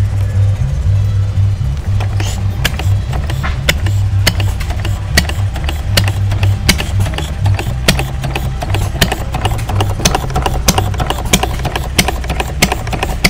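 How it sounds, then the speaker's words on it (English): An antique hit and miss gas engine runs at a 2023 engine show, a steady chugging beat with sharp periodic firing pops over a low rumble, close and loud. "That's just like the very first engine that Henry Ford made, with the exception of the spark plug"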